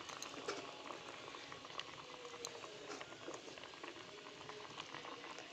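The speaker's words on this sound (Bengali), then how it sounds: "এই যে ঝোলটা ফুটে গেছে, এবার এর মধ্যে এক এক করে মাছগুলোকে দিয়ে দিব।" Fish curry broth bubbles steadily in a pot, a faint, continuous patter of boiling with small pops and no voices.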